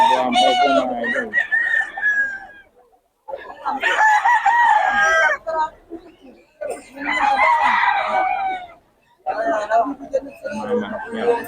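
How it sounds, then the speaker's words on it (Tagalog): Roosters and chickens crowing repeatedly with long, strained calls and some clucking, close and loud in several bursts separated by short pauses, with people talking in between. "Mga manok niya."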